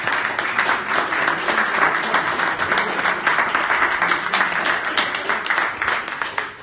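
An audience at a tech event breaks into dense, sustained applause: many hands clapping loudly and evenly for several seconds without a pause.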